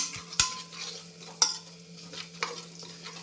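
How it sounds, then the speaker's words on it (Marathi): Stirring urad vada batter ingredients in a bowl, a spoon scraping and knocking the sides in about four sharp clicks at a steady pace, close and fairly quiet over a low hum. "हे सगळं याच्यात टाकून घेऊया. व्यवस्थित मिक्स करून"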